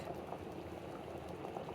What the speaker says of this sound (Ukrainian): Плов кипить. Картопля теж кипить.